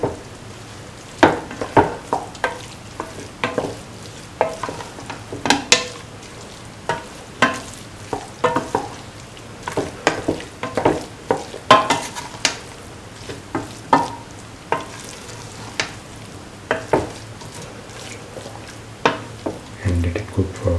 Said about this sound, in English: Thoroughly mix the rice with the rest of the mixture.